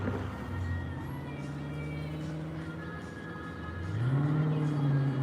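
A car engine on a night street rumbles at a distance, a steady low hum that swells louder as it revs toward the end, with no voices.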